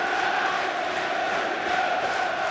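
Dense roar of a 30,000-plus crowd packing the stands at a Tottenham versus Arsenal Carling Cup football match, a steady loud wash of voices with no break.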